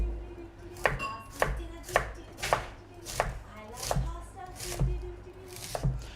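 A knife slices through fennel on a chopping board in about nine crisp, evenly spaced cuts with soft thuds, close and fairly quiet.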